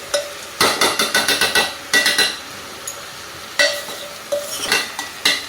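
A spoon stirs and scrapes matar dal (split peas) in a cooking pot, in quick rhythmic bursts of scraping strokes separated by short pauses, close and fairly loud.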